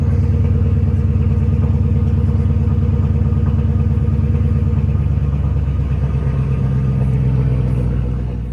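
A Ford Mustang GT/CS engine runs at a steady, loud idle, a close rumbling throb with a faint clattering texture and no voices.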